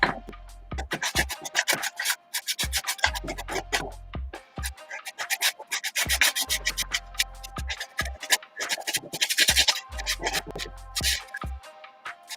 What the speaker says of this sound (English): We'll sand all over, especially around the crack.